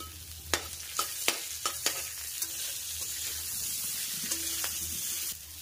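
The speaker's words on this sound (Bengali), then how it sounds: "কড়ার মাঝখানটা একটু আগলা করে দিয়ে এবার এখানে ফোড়ন দিয়ে দেব। শুকনো লঙ্কা, কালো জিরে আর দিয়ে দেব 2টো কাঁচা লঙ্কা।" Dry red chillies, nigella seeds and two green chillies tempering in hot oil in a wok, with a steady sizzle broken by sharp crackles and pops, close and moderately loud, with no talk.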